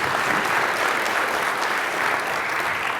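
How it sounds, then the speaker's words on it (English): Conference audience clapping for speakers welcomed on stage, an even wash of many hands at moderate loudness holding steady for the whole stretch, with no voices over it. "Give them a round of applause."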